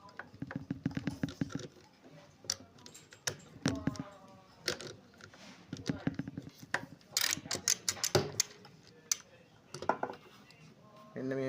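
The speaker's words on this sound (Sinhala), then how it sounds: "මෙන්න මේ විදිහට මැෂින් එකේ තියෙන නීල් ක්ලෑම් දෙක ගලව ගන්නවා." Two needle clamps being taken off a sewing machine, with a run of small metallic clicks, taps and rattles close by, irregular and separated by brief pauses, and no one speaking.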